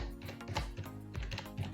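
Keys tapped on a computer keyboard while a word is entered into a design tool, a short run of quick, light clicks in uneven rhythm, close and fairly quiet with no talking.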